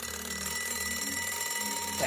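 An alarm clock rings continuously, a steady buzzing drone with a low hum throughout, fairly loud and unbroken for its whole length.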